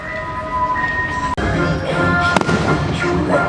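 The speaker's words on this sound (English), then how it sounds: "we are going to end our Hallowfest night with the Frightful Finale fireworks show here in Lone Star Lil's Amphitheater" Fireworks of the Frightful Finale show at Six Flags Hallowfest in Lone Star Lil's Amphitheater, a continuous rumble of bursts and crackles with one sharp loud bang near the middle and music playing underneath.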